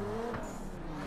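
Car drifting in the Assetto Corsa racing game with a full wheel setup, a steady engine drone with a thin high tire squeal layered on top, continuous and loud throughout.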